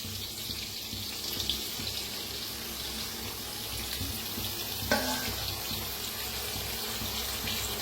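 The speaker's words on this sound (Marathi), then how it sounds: "थोडंसं पाणी ओतायचं कडने." Water poured into a cooking pan of bitter gourd and ridge gourd, a soft steady splashing trickle running alone at low level, with a brief sharper splash near the middle.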